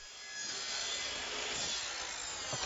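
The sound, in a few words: sawing a plastic drainpipe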